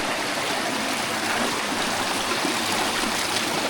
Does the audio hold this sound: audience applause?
no